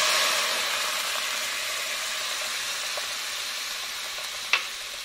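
Fragrant spices sizzle and fry steadily in a pan as water goes in, a soft constant hiss that slowly eases, with a faint clink near the end.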